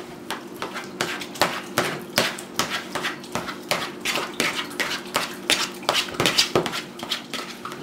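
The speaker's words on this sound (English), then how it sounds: "we would like to mash up and stir that together. We want to mash up the avocado meat good." Avocado being mashed and stirred with salt and lemon juice in a bowl: rapid, close, repeated clinks and taps of utensil against the bowl, continuing steadily without speech.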